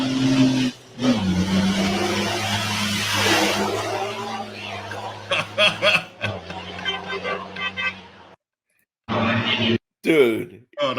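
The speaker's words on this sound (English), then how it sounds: "Giant diesel rally truck sliding through the corners" A giant diesel rally truck sliding through corners on a race course, a loud low engine drone with revving and a horn-like toot, then abrupt cuts and short bursts, with voices mixed in.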